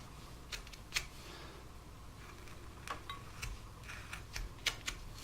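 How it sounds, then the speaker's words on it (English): A V-tool cutting the outline of a thumb in a wood relief carving of a hiker: faint, sparse little clicks and scraping nicks at an irregular pace over a quiet background. "I'm going to take a V-tool and I just want to outline that thumb"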